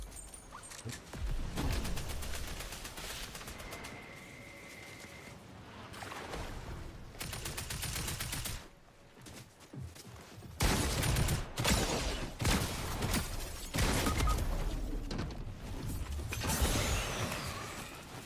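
Combat shotgun fire in a video game, with bursts of loud blasts and mechanical clacks from reloading and pumping. The shots come in irregular clusters across the stretch, with brief lulls between them.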